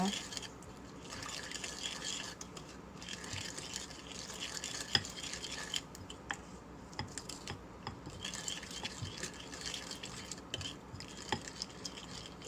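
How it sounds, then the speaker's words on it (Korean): A spoon stirs mustard sauce for chilled chogye noodles in a bowl, giving a steady run of soft scraping and light clinks that come in bursts throughout. "겨자 소스를 만들어 줍니다. 계속 저어 주세요."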